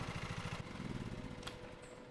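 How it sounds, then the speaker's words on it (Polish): Lawn mower engine in the Lawn Mowing Simulator game failing to start, a faint rapid chugging putter that sputters and fades after a moment, followed by a brief click and low hum. "Jeszcze się nie włączył ten zasrany silnik"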